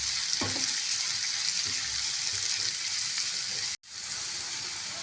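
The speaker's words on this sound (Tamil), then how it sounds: "வெங்காயம் நல்லா வதக்கி விட்டுக்கலாங்க" Onions sauté in a pan for tomato thokku, a continuous crackling sizzle with a few light stirring knocks, cut off for a moment before the frying resumes.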